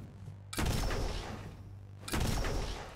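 Two loud bursts of gunfire in the ARK Extinction survival game, each a sharp broadband blast followed by a sustained rumbling decay, set over a low steady hum with a short pause between them.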